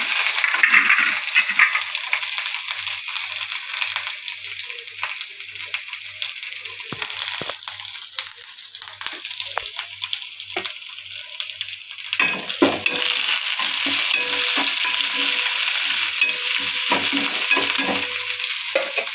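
Urad dal, green chillies, onion and curry leaves fry in hot oil with mustard seeds, giving a steady close sizzle with stirring scrapes and small clinks throughout, no talking.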